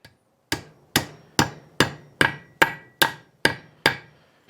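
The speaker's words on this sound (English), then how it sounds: "all you got to do is hit this with a hammer" Ten sharp hammer blows striking a drive pin anchor ring out at a steady, even pace, each a loud metallic strike with a short ringing decay, no voices.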